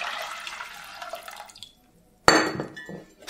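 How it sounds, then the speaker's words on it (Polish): A small amount of water is poured over soaked parrot seed mix in a pot, a short close splash and gurgle after wet stirring sounds, with a brief clink as it settles. "Następnie zalewamy niewielką ilością wody."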